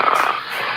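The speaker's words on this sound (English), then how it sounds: "Coach is all passed out. Sitting there snoring, hanging out." A man snores in the background of a football talk show, a rough, raspy, purring rumble lasting under a second at moderate level, with no talk over it.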